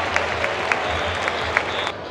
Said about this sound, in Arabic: وهي ترحيب الجمهور بنزول اللعيبة